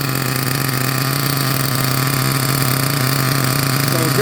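An RC truck engine, a Team Associated MGT nitro monster truck, runs steadily at a constant drone close by, with no speech and no change in pitch.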